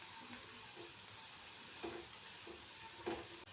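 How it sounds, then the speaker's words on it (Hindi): Garlic and green chillies crackle in hot oil over a medium flame, a steady quiet sizzle with a few soft stirring scrapes and light pops, no voices. "ये गार्लिक और हरी मिर्च, इनको क्रैकल करें।"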